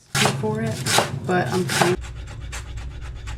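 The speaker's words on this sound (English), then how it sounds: "So starting off by chopping up some red onion." A knife chops red onion on a yacht galley board, quick rhythmic cuts under a person talking at first, then continuing alone in steady strokes.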